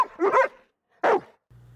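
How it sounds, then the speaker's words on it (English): Sled dogs barking happily, two loud close barks a moment apart, followed by a short low hum, with no talking. "she might have heard her dogs barking happily."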